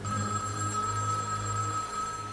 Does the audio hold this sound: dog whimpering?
no